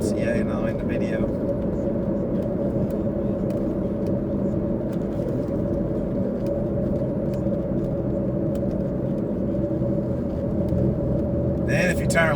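A car driving along a town road, with a steady close road and engine rumble throughout and a person talking over it.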